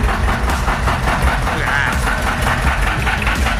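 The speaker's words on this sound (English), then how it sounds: "Love the sound of these engines." A canal narrowboat engine, including a 1936 boat with its original engine, idles nearby at a lock, giving a steady low rumble with a faint rhythmic chug and no breaks.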